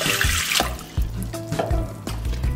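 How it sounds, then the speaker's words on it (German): Lukewarm water pours into a bowl while bread dough is being prepared, a steady splashing stream with a few louder gurgles and drips, close by and without any talk. "Als erstes nehme ich das lauwarme Wasser,"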